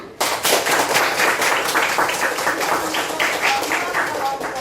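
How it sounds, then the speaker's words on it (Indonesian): A classroom of students bursts into dense, crackling applause, loud and near, continuing steadily throughout. "Tepuk tangan"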